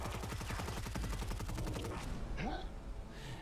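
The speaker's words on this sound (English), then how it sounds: "that one exploded like a frag grenade" Rapid automatic fire from a Superi-46 submachine gun mod in Fallout 4, a dense burst of shots for about two seconds, then a single booming explosion like a frag grenade with a falling whoosh, loud and close.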